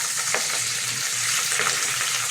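Chopped onion and chili frying in a pan in a home kitchen while chicken feet are cooked: a steady, fairly loud hiss of sizzling oil runs throughout, with a couple of faint clinks.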